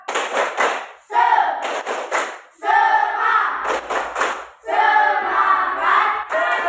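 A classroom of students performs the rhythmic Indonesian spirit clap, tepuk semangat: loud bursts of clapping in quick patterned groups, broken by short pauses, with voices chanting along.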